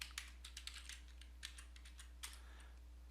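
Quiet clicking on a computer keyboard, irregular bursts of keystrokes with short pauses, faint and close over a low steady hum, no voices.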